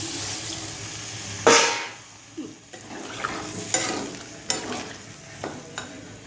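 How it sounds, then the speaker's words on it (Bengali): Water splashes into a pan of sautéed crab curry, giving a sharp hissing burst, followed by quieter scraping and stirring sounds with intermittent taps against the pan. "এবার এটা কষানো হয়ে গেছে, আমি এই যে জলটা দিয়ে দিলাম"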